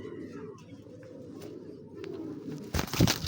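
Racing pigeons, pairs of red checkers among them, coo in a low, steady, continuous murmur close by, ending in a sudden louder rustling burst that may be wing flapping.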